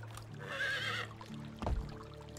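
A horse neighs in the medieval farming game Medieval Dynasty, one clear whinny near the start, followed by a soft thud of movement, heard alone with no talk.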